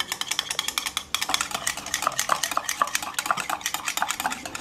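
Two cups of curd are beaten in a bowl for Marwadi-style kadhi: a close, rapid run of whisk strokes clinking and scraping against the bowl in a quick, steady rhythm, with no talking.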